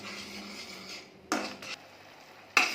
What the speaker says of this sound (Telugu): పాకం దగ్గర పడే వరకు పాన్కి అడుగంటకుండా గ్యాస్ని లో ఫ్లేమ్లో పెట్టి కలుపుతూ ఉండాలి